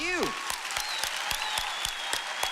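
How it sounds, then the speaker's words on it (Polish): Applause at a church event, sounding here as sparse, evenly spaced claps cutting through a voice that carries on over them, fairly faint overall. "Należą Wam się duże brawa."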